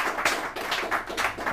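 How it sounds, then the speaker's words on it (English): Audience clapping for Aseibu Amenfi during a Ghanaian interview or citation event, a steady scattered patter of hands with soft pulsing swells, moderately loud and close. "let's give Aseibu a hand of applause"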